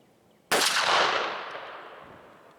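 One loud, close shotgun blast from a Remington 11-87 firing a Remington Nitro Turkey 2-3/4 inch 1.5 oz #5 shell, with a sharp crack and a long rolling echo that fades outdoors.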